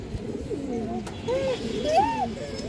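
Silver-marked pigeons giving a series of low, throaty coos with rising and falling pitch, fairly close, while someone talks over them.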